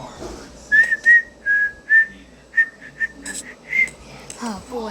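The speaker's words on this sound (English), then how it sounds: "Oh boy, I don't know how to whistle." Someone whistles a short tune of clear, near and loud notes, some held and some clipped, with a few breaths between phrases.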